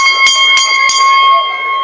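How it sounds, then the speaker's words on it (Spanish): A grandstand bell rings at the Hurlingham horse racetrack, three sharp struck tones about a third of a second apart with a sustained ringing decay, loud and close. "Hay campana de la grada."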